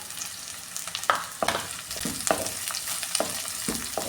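Sardine curry ingredients such as onion, green chillies and mango fry in a pan with a continuous close sizzle, broken by repeated scraping stirs of a spoon against the pan.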